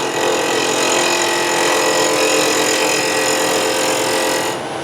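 A wooden scoop spins on a lathe while a gouge hollows out its open side. The cut gives a loud, steady, whirring scrape that holds without a break and cuts off right at the end.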